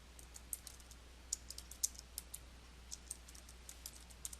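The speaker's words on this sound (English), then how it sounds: "Then type the text you want to add." Keys tapped on a computer keyboard while entering text in Photoshop Elements, a quiet, irregular run of light clicks close by, with no talk.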